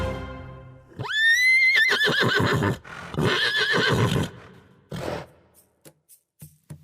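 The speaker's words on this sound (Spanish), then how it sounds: "Hoy, el caballo." A horse gives a loud, close whinny that rises and trembles, then a second shorter neigh, followed by a few hollow clip-clop hoof knocks fading out.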